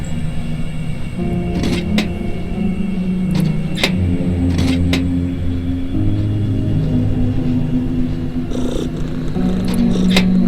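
A cat in a video game sounds over a droning, rumbling industrial game backdrop, giving a few short meows and purring tones mixed with scattered clanks, with no one talking.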